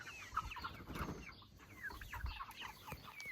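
Several meat chickens cluck and murmur nearby in a quiet, irregular chatter, with soft scratchy calls overlapping at low volume.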